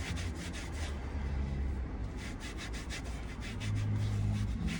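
Cleaner is rubbed onto a scuffed BMW leather car seat, giving rhythmic, close, scratchy back-and-forth strokes that run steadily throughout.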